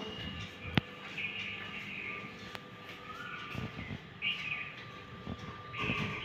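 Faint birds chirp in short, scattered bursts at a distance, with a couple of sharp clicks and quiet background noise.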